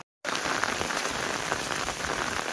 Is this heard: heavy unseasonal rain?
yes